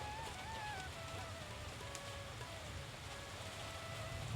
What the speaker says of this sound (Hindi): गौरा खिड़की से बाहर बारिश को देख रही थी।